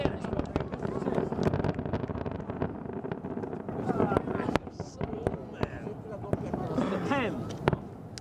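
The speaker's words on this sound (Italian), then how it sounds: "si conclude con i botti" Fireworks bang and crackle repeatedly at irregular intervals at the close of an outdoor gathering, with excited voices talking and exclaiming over the blasts.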